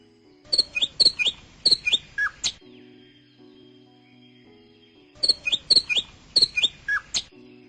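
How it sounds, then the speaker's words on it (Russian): A sparrow gives two close, clear bursts of rapid, sharp chirps, each about two seconds long, separated by a quiet pause. "Воробей."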